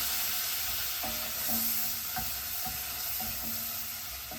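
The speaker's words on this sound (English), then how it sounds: "I'm gonna add the scallops now. Start cooking those." Scallops frying in a pan, a quiet steady sizzle with occasional light clicks and scrapes from stirring.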